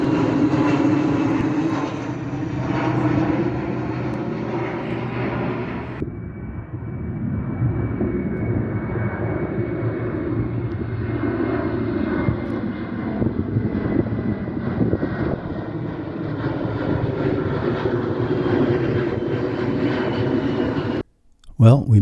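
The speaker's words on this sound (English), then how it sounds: "The airplane activity did continue somewhat into the evening" Aircraft drone steadily overhead above the St Johns River in Florida, heard from a 1971 houseboat: a loud, sustained engine roar that shifts in pitch as one plane passes and another follows, cutting off abruptly near the end.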